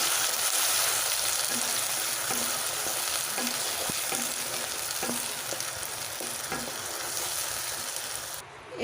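Masala with onion and tomato frying in a pan for potoler dorma, a loud, dense sizzle with regular scraping stirs close by and no talk, dropping off abruptly at the end.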